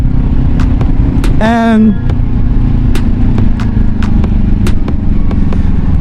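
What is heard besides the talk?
Kawasaki Ninja 400 motorcycle riding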